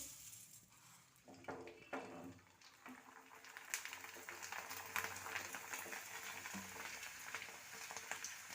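Small bhungla fryums sizzle and crackle steadily in hot oil while a chevdo snack is being made, with occasional utensil clinks close by and no voices.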